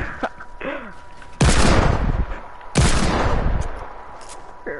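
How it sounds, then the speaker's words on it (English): Two loud, close sniper rifle shots in a first-person shooter video game, each a sharp blast with a long ringing tail, spaced about a second and a half apart, with brief speech between them. "Wow, is that a sniper?"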